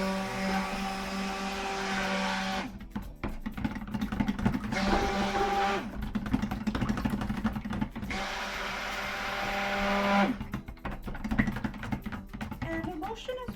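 A stick blender mixing lye into oils for soap, whirring in bursts, switching on and off several times with a buzzing motor hum, with talking between and under the runs.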